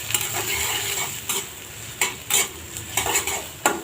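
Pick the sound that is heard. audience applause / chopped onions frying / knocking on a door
chopped onions frying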